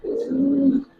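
Giribaz pigeons, one of a pair of khaki birds, give a single sustained low coo lasting nearly a second, close and fairly loud, with no talking over it.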